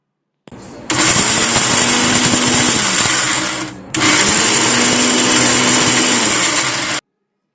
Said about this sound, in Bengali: এবার এই সমস্ত উপকরণ বেশ ভালোভাবে গ্রাইন্ড করে নিতে হবে